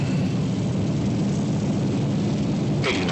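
Airliner engines spool up to takeoff thrust in a flight simulator at Jacksonville, a steady loud broadband roar holding throughout with no talk.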